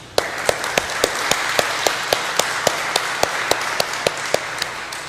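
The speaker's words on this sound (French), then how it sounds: "saluons ce travail précieux par des applaudissements" An audience applauds after a talk: steady, close clapping with sharp individual claps standing out at an even rhythm, sustained for several seconds.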